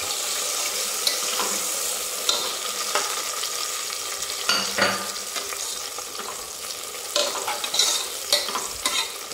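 Coriander leaves being stirred into a sizzling biryani mixture in a pot, a steady frying hiss broken by repeated scraping and clinking strokes of the spoon, close and with no talking.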